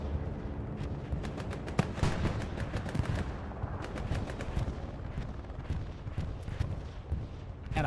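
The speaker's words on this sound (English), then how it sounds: "And a bombing run coming on through here for the Axis side." Bombing run explosions and rolling gunfire in a multiplayer World War II shooter match on the Southern Edge map, a dense steady barrage of sharp cracks and bursts with a heavy low rumble, with one louder blast near two seconds.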